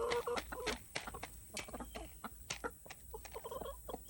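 A broody hen sitting on her eggs in a nest gives close, fairly soft clucks and low grumbling calls in irregular bursts, with no voices.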